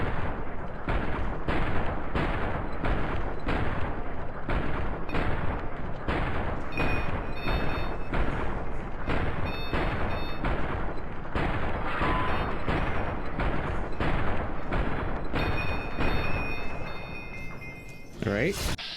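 The All-American rifle in Fallout: New Vegas fires through a 24-round magazine in a long, evenly spaced string of loud, punchy shots, each about half a second apart, before the firing stops.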